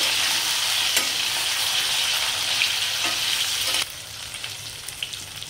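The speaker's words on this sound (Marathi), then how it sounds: "वांगी आणि बटाट्याचे काप बघा तेलामध्ये चांगलं असं परतून घ्यायचं आहे।" Eggplant and potato slices sizzle and fry in hot oil while being stirred, with a constant bright crackle that drops to a quieter sizzle partway through and a few faint clinks.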